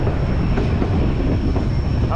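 White Pass railway cars roll along the rails with a steady, close, low rumble and faint rhythmic clatter of the wheels throughout, with no talking.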